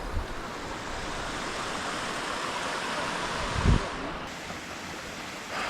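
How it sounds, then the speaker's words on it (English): A waterfall and rushing stream along a backpacking trail in Algonquin, a steady broad roar of falling and flowing water filling the scene, with a few brief thumps and rustles close by. "Almost at the falls, and then take a gander at that"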